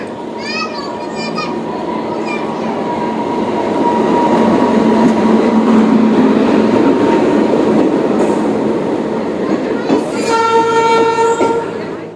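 A train rumbles loudly along a railway station platform, with horn blasts at the start and end and crowd voices underneath.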